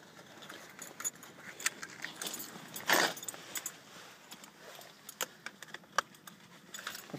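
Car keys jangle and get slotted into the ignition of an Alfa Romeo 164 converted to electric power, a short metallic rattle with a brief louder burst, close by, amid quiet cabin ambience and small clicks.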